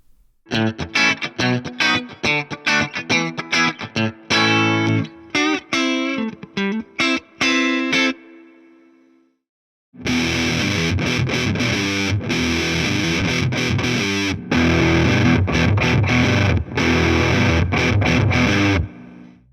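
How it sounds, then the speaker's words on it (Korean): Electric guitar played through a Fender Tonemaster Pro amp with a touch of reverb, first with one fuzz pedal in choppy strummed bursts and sustained notes, then after a brief silence a second thick, saturated fuzz tone playing dense, loud riffs. "리버브가 조금 들어간 펜더 앰프의 사운드부터 준비한 두 가지 퍼즈의 소리를 먼저 들어볼게요"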